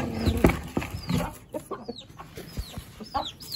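Chickens and young chicks clucking inside a coop, with several close, irregular clucks and short calls rising over a soft background of farmyard rustling.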